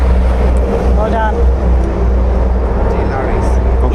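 Heavy lorries pass on a nearby road with a deep, continuous engine rumble, close and fairly loud, with faint voices underneath.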